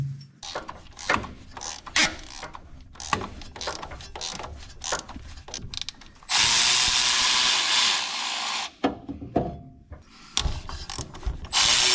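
A ratchet wrench breaking loose and turning out the water pump bolts on a Honda Acty, repeated quick clicking pawl strokes in bursts, close up, with a steady hissing stretch in the middle and no talking.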